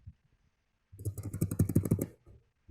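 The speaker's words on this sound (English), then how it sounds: "sounds like Mia's computer, keyboard" Rapid burst of computer keyboard typing, close and fairly loud, a quick run of clicking keystrokes about a second long after near silence, heard during an online tabletop role-playing session.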